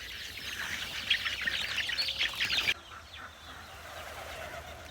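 Pigeons let outside after a long time indoors, giving a steady busy chorus of cooing and fluttering calls that is loud at first, then drops sharply to a softer, thinner background partway through.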